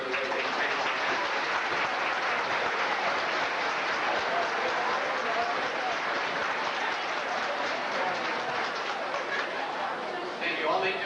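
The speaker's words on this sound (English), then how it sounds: "give these kids a round of applause" An audience applauds for a high school marching band at a 1983 Peach Bowl awards event, a dense, steady roar of clapping and crowd chatter that fills the room throughout.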